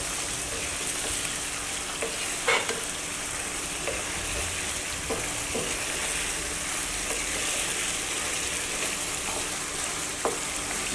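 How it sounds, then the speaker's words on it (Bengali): Chicken kosha fries uncovered in a pan with green chillies, sugar and sour yogurt, a steady sizzle broken by intermittent spatula scrapes and stirring clicks, with no one talking. "আমি এখন ঢাকনা ছাড়াই আরো 5 মিনিট একটু নেড়ে চেড়ে নেব।"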